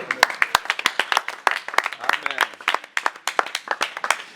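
A gathered crowd at a ministry worship service claps in a brisk, even rhythm, sharp hand strikes repeating close and crisp throughout, with voices mixed in among them.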